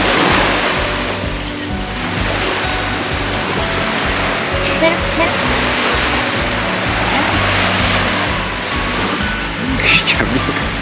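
Sea waves break and wash continuously along a beach in a loud, broad rush with swelling surges, while people talk intermittently over the surf during a pug's first visit to the sea.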